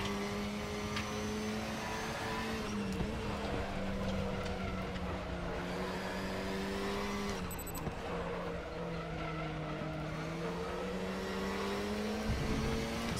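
GT4 race car engines in the RaceRoom video game, including the KTM X-Bow, drone and rev continuously with shifting pitch, joined by tire squeal, a steady loud close-up engine note with no talking.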